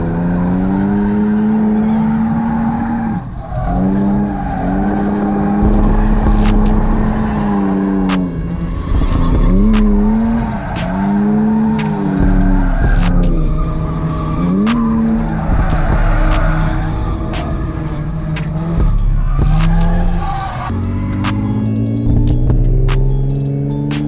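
BMW E36 drifting at a drift clinic, engine droning with rising and falling revs through gear changes while the tires squeal and skid almost continuously, loud and close throughout.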